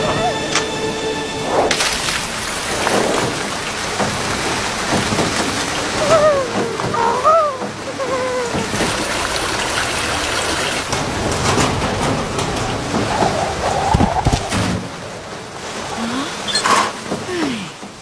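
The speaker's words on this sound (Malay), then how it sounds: "Lebat betul hujan." Heavy rain pours down in an animated cartoon scene, a loud, constant wash of hiss and splatter, with brief voices and a few swishes rising over it now and then.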